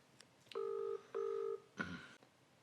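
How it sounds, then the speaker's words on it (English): An outgoing telephone call rings with a double-burst tone: two steady, moderately loud rings in quick succession, then a short rustle of handling noise afterward. "It's ringing."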